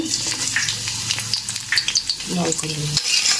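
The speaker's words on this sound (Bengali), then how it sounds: "এবার কড়াই দিয়ে দিয়েছি তেল, এবার দিয়ে দেব রসুন কুচি।" Chopped garlic frying in hot oil in a wok, a close, crackling sizzle with bursts of spitting and a few stirring scrapes, steady throughout without talk.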